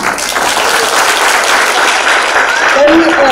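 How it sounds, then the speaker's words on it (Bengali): Audience applause at a school annual day function, a dense burst of close, loud clapping filling the whole moment, with a voice talking briefly over it near the end. "ওই একটু হাততালি দিন"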